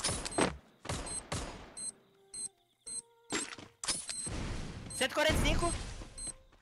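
Gunfire rings out in a battle royale video game, with several sharp bursts of shots and short electronic effect tones spread across the clip, and players chatting over the action.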